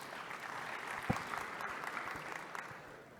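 Audience applause at a UNESCO NGO forum, moderately quiet clapping from a seated crowd with one sharper clap standing out, gradually thinning toward the end.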